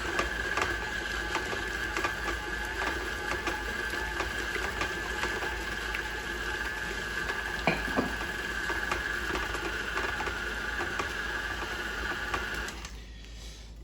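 Electric stand mixer beating tart dough with eggs, a steady whirring motor hum with a faint high whine and irregular ticks and knocks, running continuously before stopping abruptly near the end.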